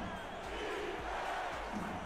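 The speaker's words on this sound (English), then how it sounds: "Crowd on their feet here in the city by the bay." Stadium crowd roaring at an American football game in San Francisco, a steady loud wash of cheering and shouting with broad, sustained energy throughout, fans on their feet.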